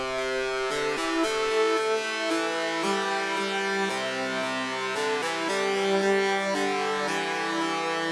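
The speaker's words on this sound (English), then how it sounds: "So cool little like counter melody lead thing." A bright synth lead plays a quick counter melody in a 2000s-style hip-hop beat, its notes smeared by reverb and delay into a dense, shimmering wash, steady and alone.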